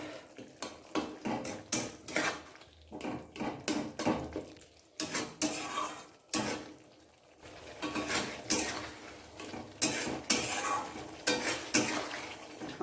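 Pumpkin ghonto being stirred in a pan with a metal spoon, a run of uneven scrapes and clinks against the pan over a faint sizzle, close and fairly quiet.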